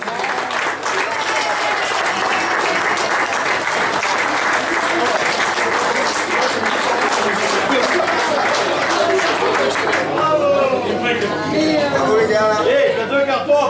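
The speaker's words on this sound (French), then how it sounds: "Vous pouvez les applaudir bien fort." Loud, sustained applause from a crowd of parents and educators at a children's event, steady for the whole stretch, with a little chatter and voices rising near the end.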